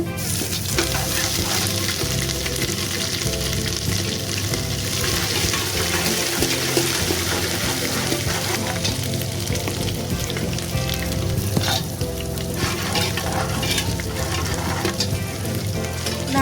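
Garlic and ginger frying in a pan, a continuous dense sizzle with scraping stirring noises, loud and close throughout.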